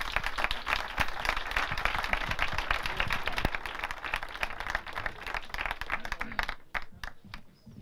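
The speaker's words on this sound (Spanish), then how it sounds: "yo creo que se ha merecido un aplauso a nuestros ponentes" An audience at a public administration good-practices forum applauds its speakers, dense sustained clapping from a crowd that thins out and fades to scattered claps at the end.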